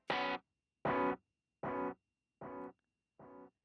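Five overdriven electric guitar chord stabs repeat at an even pace, each clipped short and slightly quieter than the one before.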